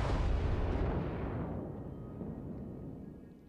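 Torpedoes striking a battleship in World of Warships: a single heavy, rumbling explosion that starts loud and slowly fades into a long, dull roar.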